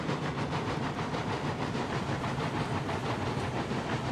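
Steam locomotives roll along rails in the Railroads Online game, giving a steady, dense rumble with hiss and faint rhythmic clatter that runs continuously without a break.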